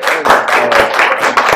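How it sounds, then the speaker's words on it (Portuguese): Close, rhythmic clapping from a small group at a talk, about a dozen sharp hand claps in quick succession over a second and a half. "palmas para ele"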